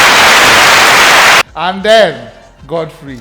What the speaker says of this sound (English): Let me just give a round of applause.